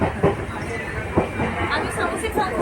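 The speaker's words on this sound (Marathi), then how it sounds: "आता ट्रेनमध्ये बसलो आहोत।" Inside a moving passenger train on a pilgrimage journey, with a rumbling carriage drone and rhythmic clatter under nearby chatter and passengers' voices.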